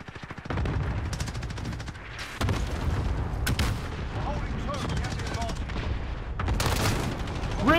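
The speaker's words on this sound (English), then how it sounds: "Cluster strike away." A cluster strike artillery barrage in Call of Duty: Modern Warfare pounds away in a dense, continuous rattle of blasts and gunfire, loud and close, with sharp impacts stacking over several seconds as voices talk over it.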